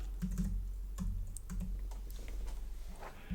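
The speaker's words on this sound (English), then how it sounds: "in value or formula I'm going to type fleece" Someone types a word into a spreadsheet filter on a computer keyboard: a short run of soft, close keystrokes over a low, steady hum.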